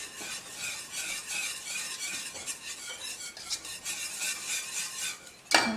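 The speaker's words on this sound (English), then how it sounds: "So I'm going to stir that in and get it incorporated before I add in my coconut or my oats." A spoon steadily stirs almond butter into a thick no-bake chocolate cookie mixture in a bowl, giving a continuous close scraping and swishing with a brief louder knock at the end.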